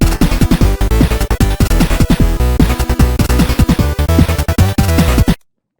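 Busy chiptune chord duet in square waves, with dense rapid buzzy note changes and a thumping beat, loud and continuous before cutting off abruptly.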